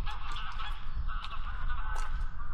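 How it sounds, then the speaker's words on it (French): A flock of geese honks continuously in Denmark, a dense overlapping chorus of calls at moderate distance with steady low outdoor rumble underneath. "C'est des oies."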